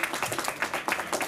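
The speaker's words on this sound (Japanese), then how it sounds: "拍手。" Clapping from the audience at a junior street dance contest, heard as a brief, rhythmic burst of a few hands clapping in quick, uneven beats, fairly close and loud.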